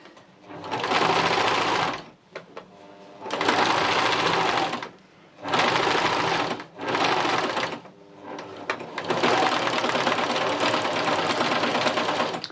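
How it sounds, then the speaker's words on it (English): A sewing machine runs simple straight stitching on fabric in steady bursts, starting and stopping several times with short pauses between runs. The close, even mechanical whirr plays alone, with no talking. "So I'm just going to do simple stitching on here"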